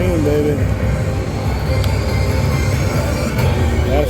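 Rumbling railroad sound effect with rolling wheels and a squealing, clacking texture from the Railroad Riches slot game, loud and continuous throughout, with excited talking over it.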